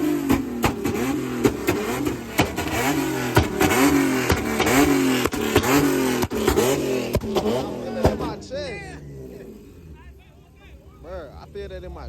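A car at a big car show lets out a series of loud, rapid throaty revs, roughly a dozen sharp bursts, that then fade into quieter idling with voices talking nearby.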